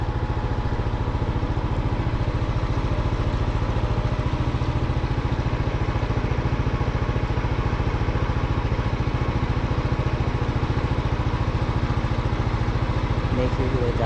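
A motor boat used as a river ferry crossing to the other bank, its engine chugging in a steady, rapid, close-up putter throughout.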